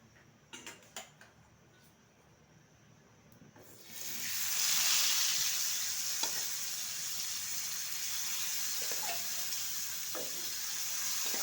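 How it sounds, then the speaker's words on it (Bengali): Koi fish drops into hot white oil in a wok after a few light taps, setting off a steady, bright sizzle that keeps hissing evenly to the end. "মাছটা হালকা করে ভেজে নেব।"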